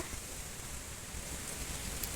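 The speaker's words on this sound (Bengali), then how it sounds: "গুড়ি ঘুরে বৃষ্টি পড়ছে" Light drizzle falls during a stormy, windy spell along a road, a soft continuous hiss of fine rain with wind noise and no talking.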